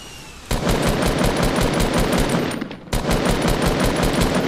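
Rapid automatic gunfire in the Fortnite video game, loud and close, rattling in two sustained bursts split by a very short pause.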